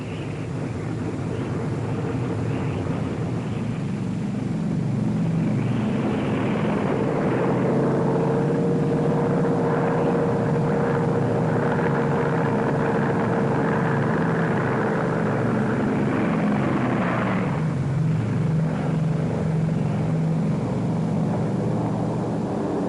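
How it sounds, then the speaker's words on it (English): Massed engine drone from large formations of WWII Japanese aircraft flying toward the US fleet off Okinawa, a steady loud roar with a wavering tone that swells and fades across the whole stretch, with no voices. "Radar has picked up large formations of Japanese planes."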